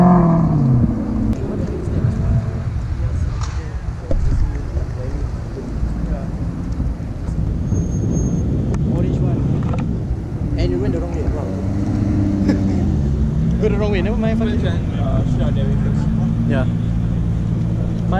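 A Maserati engine at a Singapore car meet rumbles loudly and rises in pitch as it is revved. People talk over the engine throughout.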